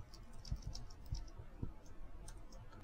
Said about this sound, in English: first, we'll type in some new text, such as the sentence, "Look what I can do."